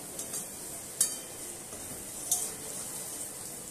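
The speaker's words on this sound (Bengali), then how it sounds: "সবজির সাথে সামান্য নেড়ে চেড়ে ভেজে নিলাম" Vegetables for chicken chow mein being stir-fried in a pan, a soft steady sizzle throughout with two sharp metallic clinks of a utensil against the pan, no talk.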